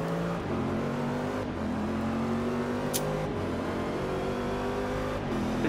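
Corvette C7 GT3 lapping the Le Mans circuit in Forza Motorsport 6, its engine revving hard and climbing through gears with shift drops, a loud, continuous race-car roar with brief tire noise.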